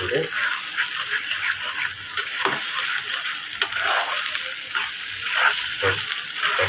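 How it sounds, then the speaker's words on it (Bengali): A spatula stirs grated papaya and egg frying together in a pan for a Bengali papaya-egg fry, giving a steady close sizzle with soft scraping strokes and short bursts of louder crackle. "এভাবে হালকা ভাবে নেড়ে"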